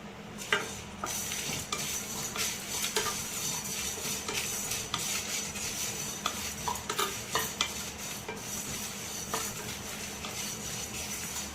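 Curry leaves frying in a pan for an Andhra-style stuffed brinjal dish: a low continuous sizzle with frequent quick scrapes and clinks of a spatula against the pan, close by and steady.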